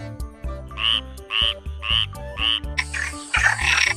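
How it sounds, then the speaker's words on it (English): A frog croaks in four evenly spaced, loud close calls over a bouncy children's phonics song with music throughout, followed by a brighter burst of sound at the end. "F for frog."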